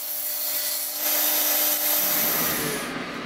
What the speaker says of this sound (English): I carefully cut the angle bar in half along its length